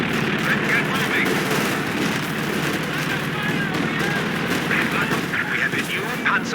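Dense battlefield din from Company of Heroes 2: continuous automatic gunfire and artillery crackle, loud and unbroken, with bursts of distant shots layered under the roar.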